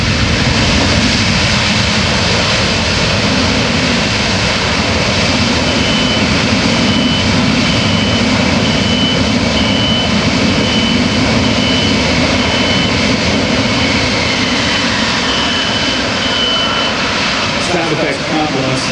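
The jet engines of a C-17 Globemaster III roar in reverse thrust during an air show demonstration at AirPower Over Hampton Roads, a loud, continuous broadband blast that stays close and steady throughout.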